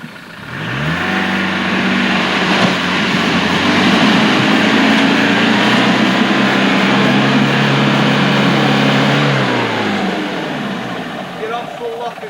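A Land Rover engine accelerates hard in second gear, a loud, steady mid-pitched roar held for about ten seconds with rising harmonics before easing off, with a person speaking over it.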